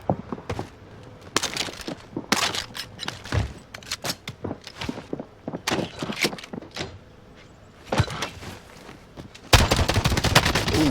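Bursts of gunfire from the video game Warzone, with sharp single shots and rapid volleys scattered in irregular clusters, some close and loud, others fainter, with a heavier sustained stretch near the end.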